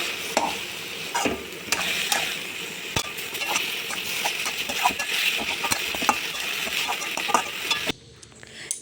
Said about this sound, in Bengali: এবার ভালো করে নাড়াচাড়া দিয়ে আর একটু সিদ্ধ হওয়া পর্যন্ত অপেক্ষা করব